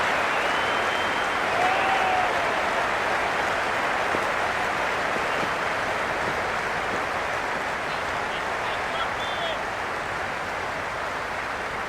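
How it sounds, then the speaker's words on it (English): Cricket crowd at an India versus England T20 match cheering and applauding before the first ball, a vast, steady roar of clapping and noise from a packed stadium, loud and unbroken throughout, with a faint whistle or two. "The crowd are making a heck of a lot of noise even before the first ball's been bowled"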